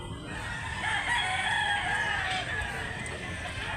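Talisayon rooster at a poultry market in Mantalungon, Cebu, crowing in a long, steady call with clucking, moderately near over continuous outdoor background noise.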